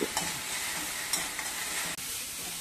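Green chilies sautéing in a pan for Marathi thapi vadi, a continuous close sizzle broken by a few sharp scraping stirs, with no talk.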